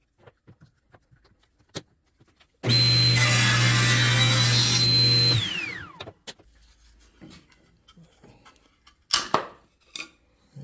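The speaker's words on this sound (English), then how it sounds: "I'm using the drum sander instead of the planer to get these down to the thickness" A drum sander thins a wooden bookmark piece in a single loud pass of about three seconds, a steady whirring rasp that winds down, surrounded by quiet workshop knocks and handling.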